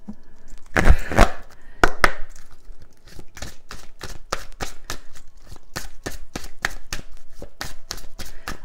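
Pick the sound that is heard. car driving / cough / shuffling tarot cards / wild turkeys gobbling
shuffling tarot cards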